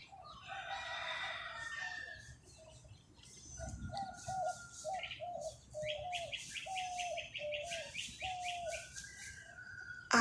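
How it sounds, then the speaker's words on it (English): Small birds chirp outdoors in a steady run of short repeated calls with higher twittering layered above, fairly near, with no talking. "even to just hear those sounds, the little sounds of the birds"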